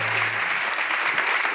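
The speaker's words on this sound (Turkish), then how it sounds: "Herkes alkışlarla yerine gönder." Studio audience applauding steadily and loudly throughout, dense clapping with no talk over it, at a Turkish talk-show taping.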